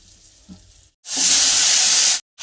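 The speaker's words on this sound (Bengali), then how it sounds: "নোনা মাছটাকে ভাজি করে নেব" Salted fish dropped into hot oil in a pan, a sudden loud, close sizzling hiss that holds for about a second before stopping abruptly, following a quiet lead-in.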